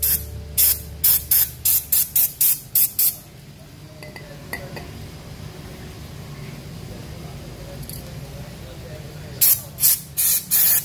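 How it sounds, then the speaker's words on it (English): A run of short, sharp aerosol brake cleaner spray bursts on a Suzuki GSX-S150 motorcycle's rear disc brake, then a quieter stretch with faint clinks, before another series of rapid hissing sprays close to the microphone. "now I will use 3M high power brake cleaner to quickly clean dirt"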